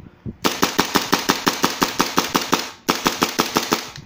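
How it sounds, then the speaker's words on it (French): A Tokyo Marui Colt .45 MEU airsoft pistol fires a rapid string of sharp, close, evenly spaced shots, then pauses briefly before a second quick burst. "S'il y a une bille inclue insérée dans le canon, on a juste armé le marteau et ça tire."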